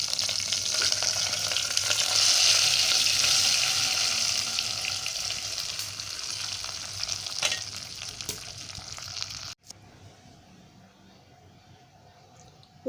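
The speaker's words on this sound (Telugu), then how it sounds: "ఈ మిశ్రమాన్ని పప్పులో వేసేస్తున్నానండి." A hot tempering mixture poured into tomato dal gives a steady, close frying sizzle that slowly fades, then cuts away to near silence.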